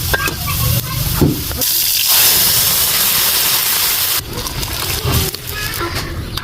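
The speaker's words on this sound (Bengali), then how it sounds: "পেঁয়াজ রসুন আর কালো জিরাটা বেশ ভালোভাবে ভাজা হয়ে গেছে, এখন ডালটা ঢেলে দিব" Dal is poured into a hot pan of fried onion, garlic and black cumin, setting off a loud, broad steaming hiss and sizzle that surges, settles, then flares again, close up with no talking.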